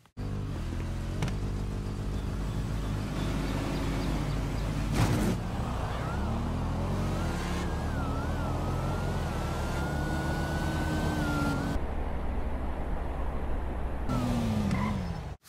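A Sultan car in the video game GTA 5 races in a street drag event, its engine droning and climbing steadily through gears, loud and continuous with a few abrupt cuts.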